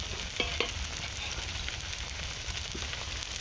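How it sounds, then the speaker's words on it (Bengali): Potato greens fry in oil with onion and garlic, a steady close sizzle broken by a couple of sharp scrapes of stirring near the start, with no voices. "এবার শাকের মধ্যে দিয়ে দেবো পেঁয়াজ আর রসুন,"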